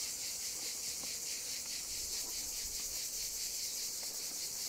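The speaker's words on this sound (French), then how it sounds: "Elle est bourdonneuse celle-ci." Honeybees buzzing inside an open beehive, a steady dense hum that stays even and continuous throughout, with no talking.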